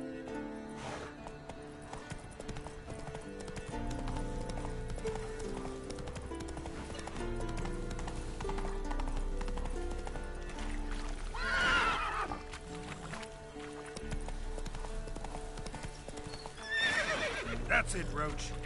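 In The Witcher 3, the horse Roach gallops with rhythmic clip-clopping hooves and neighs sharply twice, over a game music score.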